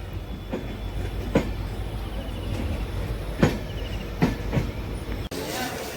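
The Rameswaram–Tambaram train rolls into Manamadurai Junction, wheels clattering over rail joints in irregular clicks and thumps above a steady rumble, close and loud, with faint voices in the background.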